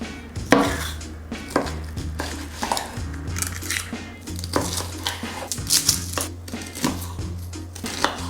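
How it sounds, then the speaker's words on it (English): A knife chops small, very strong onions on a board in a quick, uneven series of sharp, close taps and knocks, with brief clatters of utensils in between. "these little onions may be some of the strongest onions I've ever cut in my life"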